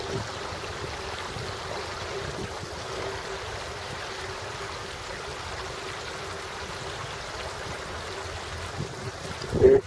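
Incoming tide at a Saint John, New Brunswick beach in January, with steady washing surf and water rushing over the shore throughout, broad and continuous with a brief louder swell at the very end.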